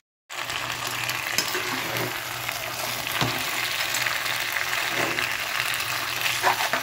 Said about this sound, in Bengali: এইবারে এটাও ঢাকা দিয়ে আমি 2 থেকে 3 মিনিট একটু মশলার সাথে কষিয়ে নেব।